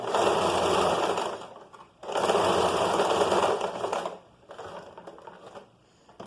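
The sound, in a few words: sewing machine stitching a circular seam in fabric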